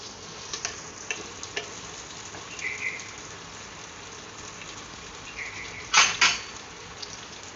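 Garlic, tomato, onion and curry leaves sauté in a pan for Sankara fish curry, giving a steady soft sizzle with scattered utensil clinks and a louder metallic scrape near the end.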